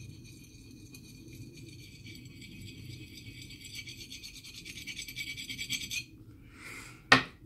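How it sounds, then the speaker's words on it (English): A glass bottle is rubbed in circles on gritty stone, making faint rhythmic scraping strokes that grow slightly louder, then stop before a single sharp knock. "When I do these circles here, it seems to be scratching a little bit."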